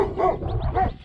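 A dog barks twice in quick succession, close and fairly loud, on a long-distance hiking trail.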